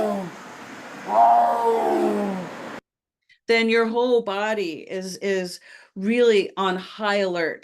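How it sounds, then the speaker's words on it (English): A tiger's roar, a single loud rough growl for a few seconds, followed after a short silence by a person talking. "if you hear the tiger, which sounds like this"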